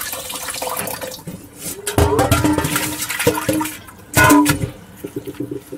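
Tap water runs over fish maw being rinsed by hand in a kitchen sink, splashing in uneven bursts that swell and ease, fairly close and moderately loud with no talk.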